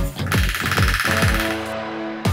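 A tiny rubber hammer strikes a shaft on a Volvo TGB 13 6x6 ex-military truck: about seven quick, close knocks in a rapid rhythm, each leaving a short metallic ring.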